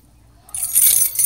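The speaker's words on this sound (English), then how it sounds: "Keys. Check." A bunch of keys jangles close by after a quiet start, a bright metallic rattle and clinking that swells and continues in loose shakes, with no talking over it.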